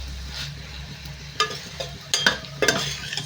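Tomatoes and onions softening in a frying pan for an egg curry sizzle quietly and steadily, broken by a few sharp spatula scrapes and stirring clacks near the end.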